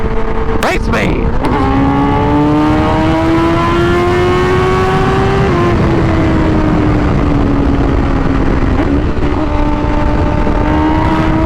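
A Dodge Hellcat-type car engine revs and accelerates loudly in a street race, a rising then steady engine tone running the whole time with a sharp burst near the start and a voice audible underneath.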